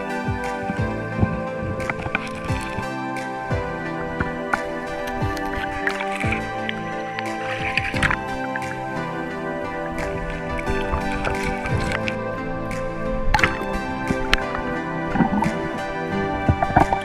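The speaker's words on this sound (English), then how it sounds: "I'm trying to divert the flow of the water to run through really fast" Fast river water diverted to rush over bedrock and gravel while prospecting for gold in an Australian river, a steady close gurgling flow with splashes and occasional scraping knocks throughout.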